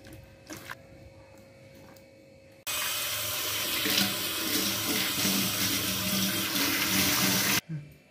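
Tap water gushing into a sink while vegetables are washed, a loud steady hiss that starts abruptly partway through and cuts off near the end, preceded by quieter kitchen clatter.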